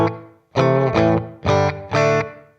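A Sonicake Pocketmaster pedal on a small room reverb setting, with four loud sustained chords in a row, each one ringing out with a short, roomy tail and no voices over them.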